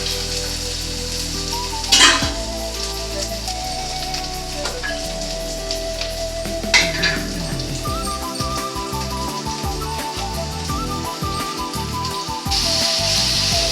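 Tomato puree fries with ginger garlic paste in a steady, close sizzle, with a few louder bursts of spatter and scraping stirs, then low rhythmic clatter near the end.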